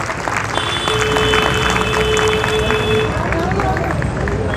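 Audience at a Jamia Millia Islamia student speech applauds steadily, a dense wash of clapping with crowd noise filling the whole stretch at close range, and a voice briefly audible over it.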